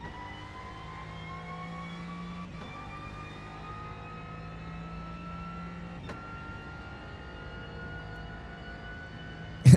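RC race car driving around the track in an endurance race, a high steady whine with gradually shifting pitch, distant and continuous, with a couple of faint passing swells and a brief bump at the end.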